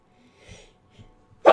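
After a moment of quiet with a few soft breaths, one sharp, loud sneeze bursts out close by at the very end.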